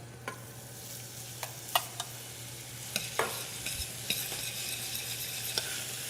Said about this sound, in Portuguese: Eu vou entrar com a minha cebola